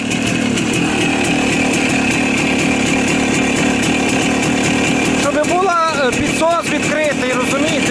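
A Voskhod 3M motorcycle's small two-stroke engine idles roughly after a cold start, running loud and close with a buzzing, uneven tone throughout, while someone talks over it toward the end.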